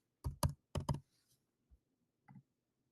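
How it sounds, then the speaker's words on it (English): Computer keyboard typing as a name is entered: two quick bursts of close clicky keystrokes, then a pause and a few isolated taps, fairly quiet in a still room. "And you just kind of type the next name"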